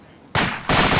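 Close, loud rifle fire in two sharp bursts, one quickly after the other, during shooting at a distant target.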